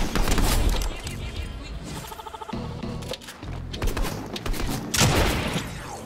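Gunfire in Fortnite, bursts of shots and booms mixed with game sounds and a voice talking, dense and uneven with sharp loud hits at the start and near the end.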